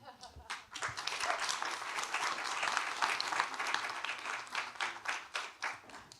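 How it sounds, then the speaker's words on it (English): An audience at a data-storytelling talk breaks into applause, the clapping dense and sustained and then thinning toward the end. "Can I get one more round of applause for Teo?"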